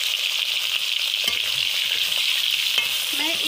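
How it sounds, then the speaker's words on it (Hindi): Banana pieces fry in hot oil, a steady bright hiss of bubbling oil with soft stirring clicks, close and continuous throughout with no talk. "मैं इसी तेल में मैं केले को अपने फ्राई करूँगी"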